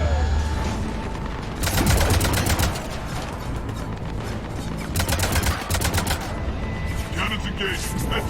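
Rapid bursts of cannon fire in the Mass Effect 3 Omega DLC, repeated volleys of sharp shots in dense clusters amid continuous battle noise.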